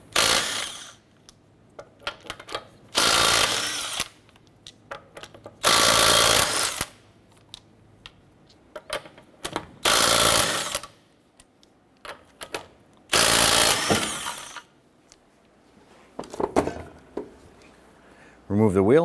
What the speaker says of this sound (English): let's go ahead and remove our lug nuts